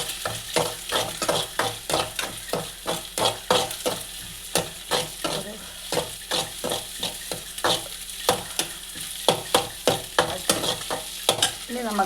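A spatula scrapes and taps rhythmically through a pan of vegetable thoran with beaten egg, about two strokes a second, over a continuous soft sizzle. No one speaks.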